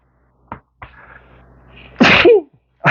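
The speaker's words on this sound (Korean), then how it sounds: "미안해 재채기가 나네." A single loud sneeze bursts out after a few faint breaths and soft rustles, close and sharp, with a brief intake leading into it.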